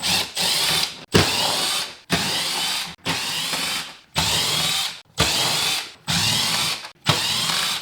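Power driver spinning out T15 screws from the target top holders of a C8 Corvette Z06, in seven or eight close, loud bursts of whirring with short pauses between, each burst ratcheting steadily.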